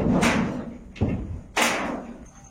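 Colored tin sheets being fitted onto newly framed doors give three heavy, close thuds, spaced unevenly over a couple of seconds with a short ringing tail after each.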